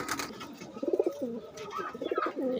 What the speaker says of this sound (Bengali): এই কবুতরগুলো সব আমার ঘরের কবুতর